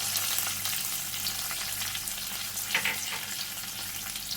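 Garlic fries in oil with curry leaves, pandan leaves and dried fish flakes for a bitter gourd stir fry. A continuous close sizzle runs throughout with a brief stir, and nobody speaks.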